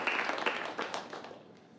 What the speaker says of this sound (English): Give a round of applause to Bill McKinley.